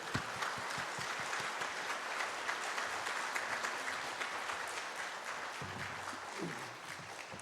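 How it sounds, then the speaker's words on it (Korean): Church congregation at a Sunday service in Cheonan applauds to welcome a missionary serving in Thailand, a dense, steady wash of many hands clapping throughout, easing slightly near the end. "우리 선교사님 나올 때 박수로 우리 환영하겠습니다."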